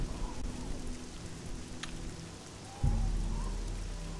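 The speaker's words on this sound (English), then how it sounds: "It is currently raining." Steady rain in the video game Oblivion gives a soft, even hiss of falling water, with a dull thump near the end and no talking.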